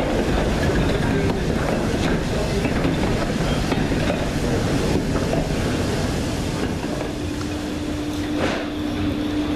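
Steady rumble of a passenger train on a heritage line, with a Great Northern Railway Class N2 0-6-2 steam tank locomotive, carriages rolling with faint clickety-clack and a brief higher squeal near the end.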